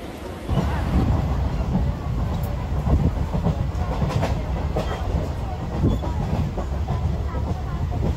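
A crowded local commuter train running, a steady loud rumble with rhythmic clattering of wheels over the track heard from inside a carriage, with faint voices in the background.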